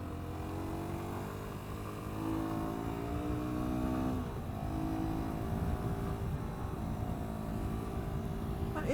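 A 2022 Sinnis SM-R 125cc motorcycle engine drones steadily while riding, rising in pitch as it revs harder and then dropping back, with constant road and wind noise underneath.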